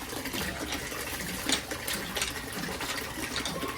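Running water pours and splashes continuously as something is rinsed, a steady close gush with occasional louder spatters and no talking.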